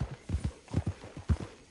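Horse hooves clip-clop at a steady walking rhythm in the Red Dead Online video game, each pair of close, clear hoof strikes recurring evenly.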